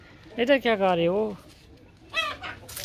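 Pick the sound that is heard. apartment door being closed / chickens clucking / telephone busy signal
chickens clucking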